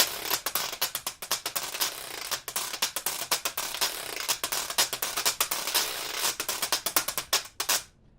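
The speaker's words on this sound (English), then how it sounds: "So acoustically, the washboard just sounds like this." A washboard scraped and tapped in quick rhythmic strokes, bright and rattly like brushes on a snare, played alone and close.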